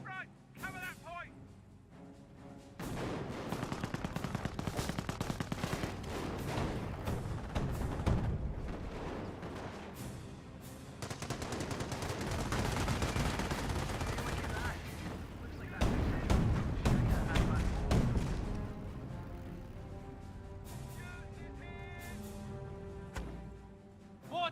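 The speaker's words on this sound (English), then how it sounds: "Mortar now firing away." Mortar and machine gun fire in the World War II strategy game Company of Heroes: a dense, loud, continuous barrage of booms and rattling gunfire that swells and surges for the whole stretch, with a voice now and then.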